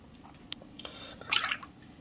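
Pho broth dripping from a ladle into a two-quart soup container: a few scattered single drips, then a short louder burst of splashing liquid, close up with no talk.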